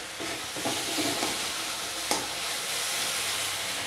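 Spice masala is fried and worked in a pan for Bengali khoyra fish curry, giving a steady loud sizzle with a few stirring scrapes and one sharp tap near the middle, with no talk.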